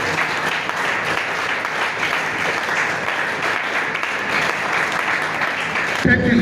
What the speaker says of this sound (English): please help me give my permanent secretary a round of applause